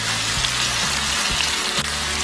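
Vegetables stir-fry together in a pan over a weak home burner for black-bean-sauce noodles (jajangmyeon). A loud, steady, close sizzle runs throughout over a low hum, with no talking.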